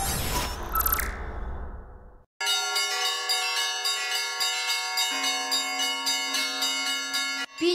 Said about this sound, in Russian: Пение колоколов разносится на всю Нижнюю Тавду.